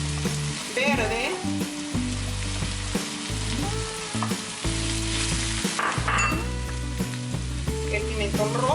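Sofrito with green bell pepper frying in a pan, a steady loud sizzle with bursts of stirring and scraping throughout.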